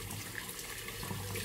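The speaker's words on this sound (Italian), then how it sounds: "facciamo scorrere l'acqua calda" Hot water runs steadily from a bathroom tap into a sink before a wet shave, making a continuous close splashing hiss with no voices.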